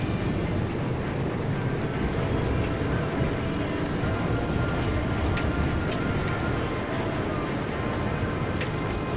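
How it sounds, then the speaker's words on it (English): Steady, loud gusting wind roars in stormy weather in the survival driving game Pacific Drive, a continuous broadband rush with faint scattered clicks, no voices. "the weather is quite loud."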